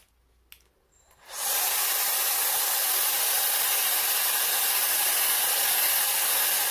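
A Dyson Airwrap switches on after about a second of near-quiet and blows hot air while curling hair, giving a steady, loud, close rushing hiss that holds evenly to the end.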